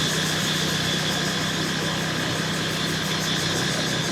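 Steady motorbike engine drone while riding through Mae Hia, Chiang Mai, Thailand, a continuous mid-low hum with broadband road and wind noise, constant and close, no talk.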